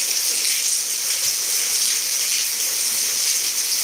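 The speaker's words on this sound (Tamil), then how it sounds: "பக்கத்து வீட்டிலலாம் பைப்புலலாம் தண்ணி இப்படி தான் வந்துட்டுருக்கு மேலேருந்து வளைஞ்சி வந்துட்டுருக்கு" Steady hissing rush of rainwater pouring continuously from a pipe after heavy rain, like a strong flow, constant and unbroken throughout.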